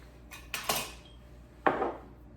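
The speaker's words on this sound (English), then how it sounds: "then I'm gonna scrape my bowl down" Utensil scraping down a mixing bowl of eggnog cream mixture, three short bright scrapes in quick succession, close and clear in a quiet kitchen.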